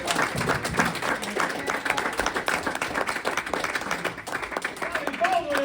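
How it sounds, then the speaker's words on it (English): A comedy club audience applauds a stand-up comedian at the end of his set, with loud, dense clapping and crowd noise sustained throughout while a voice talks over it. "Let's give that applause for all the comments you can hear tonight."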